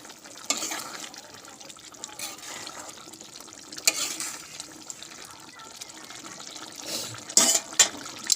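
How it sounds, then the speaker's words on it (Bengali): Soft bubbling and sputtering of a curry simmering in a pot on the stove, with scattered pops and a few louder clinks and stirring noises. "তরকারিটা ফুটছে"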